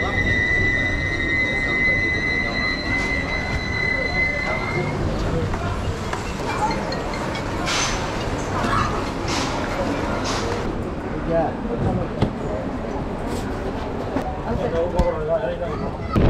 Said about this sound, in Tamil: தாம்பரத்துக்கு அடுத்ததாக இப்போ ட்ரெயின் ஸ்டார்ட் ஆகிடுச்சிங்க